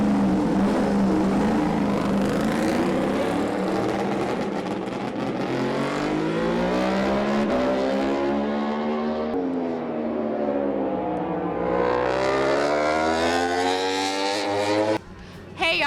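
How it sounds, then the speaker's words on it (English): MotoGP motorcycles race at Circuit of the Americas in Austin, engines screaming loudly as they rev up and shift through gears, pitch rising and falling continuously for about fifteen seconds before a brief cut. "We're inside Circuit of the Americas for MotoGP, and the race is about to begin."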